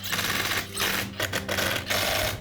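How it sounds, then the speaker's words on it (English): Screws are driven in to secure the starter on a string trimmer, a dense rapid buzzing rattle of a powered screwdriver in several short bursts with brief gaps, close and fairly loud. "I'll go ahead and tighten up the 4 screws that secure the starter."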